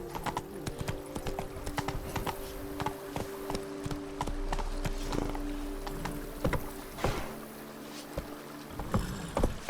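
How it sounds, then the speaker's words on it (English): Hoofbeats of a horse galloping in The Witcher 3 video game, a steady rapid clip-clop running throughout at moderate loudness over faint game ambience. "Run, Roach"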